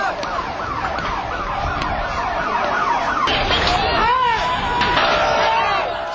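Ambulance siren wails and yelps amid crowd noise and street commotion, fairly loud and near, with overlapping voices and a babble of onlookers underneath.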